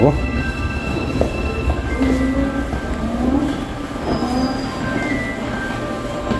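A Busan subway train on Line 2 running underground, with a steady heavy rumble of wheels on track, squealing rail tones and rattling, loud and close throughout, with some voices underneath.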